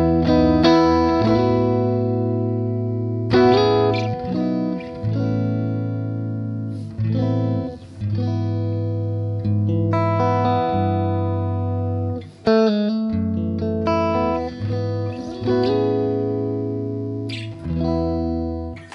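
Electric guitar played through a Boss IR200 amp and cabinet simulator pedal, loud and alone, with sustained chords and single notes broken by short pauses and fresh strums.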